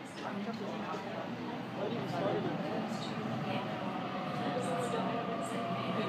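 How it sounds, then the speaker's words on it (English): A train arriving at a station, a steady close rumble and rolling wheel noise filling the whole stretch, with faint voices nearby. "The train is coming."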